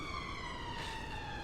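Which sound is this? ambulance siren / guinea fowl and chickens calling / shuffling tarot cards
ambulance siren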